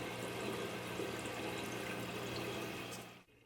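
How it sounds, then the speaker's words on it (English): Water trickles and splashes steadily as a reef aquarium display tank and sump fill and begin circulating, a continuous close wash of running water that drops away abruptly at the end. "There is now enough water in the display tank and sump to get the water properly circulating, which I'm very happy to see and hear the water trickling."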